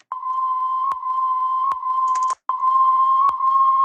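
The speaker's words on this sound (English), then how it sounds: "As far as the intro, it's just a simple whistle." A simple, steady tonal whistle opens an electronic track intro, holding one pitch with brief clicks and a short cut before it resumes, alone and loud.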